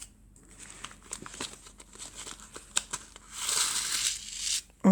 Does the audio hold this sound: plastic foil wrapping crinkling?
yes